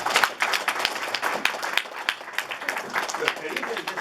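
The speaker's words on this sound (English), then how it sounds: "Big round of applause for Kareem." Scattered clapping from an audience at a networking mixer for an introduced colleague, sharp individual claps rising and falling over a few seconds, with talk mixed in.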